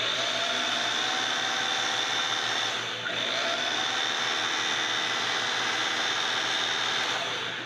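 A rebuilt motor on a vintage Singer 301A sewing machine runs steadily with a constant whirring hum and high whine, close by, continuous throughout with a brief dip midway.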